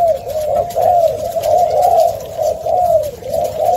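A cooing dove, one of a pair of aviary birds, repeats rhythmic rolling coos close and loud, in a steady pulsing pattern with no talk.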